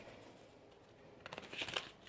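Oracle cards are shuffled and drawn, a brief close flurry of papery flicks and slides rising at the end of a quiet stretch.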